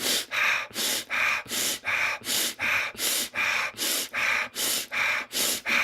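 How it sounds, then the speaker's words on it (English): Quick, forceful breaths before lifting weights come in a steady, fast rhythm of about fourteen sharp puffs, close and loud, with no talk over them. "before my set, when I'm getting ready to lift, I start to breathe quickly."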